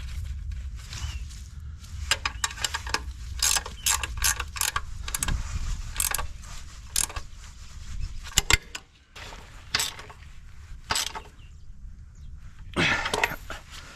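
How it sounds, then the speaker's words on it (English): Bolts fitting a soft drive to a front loader are tightened with a lock nut and washer, giving many sharp metallic clicks and ratcheting taps in irregular bursts, close and alone over a low background rumble. "what I'm going to do to keep them tight is put a lock nut and a washer behind them"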